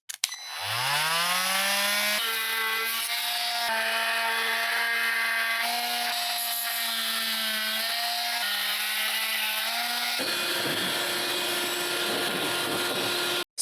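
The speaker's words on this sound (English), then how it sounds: "that's gonna require some power tools" A power tool whirs up to speed and runs steadily close by, its pitch dipping and shifting under load as it grinds the edges of tabletop-game terrain, then winds down abruptly.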